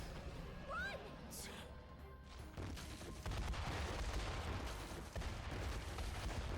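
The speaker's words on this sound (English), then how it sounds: "Explosions for no reason." Explosions in the video game Metaphor ReFantazio, a run of rumbling blasts and crashes that build from about the middle and continue loudly, mixed with other game sounds and effects.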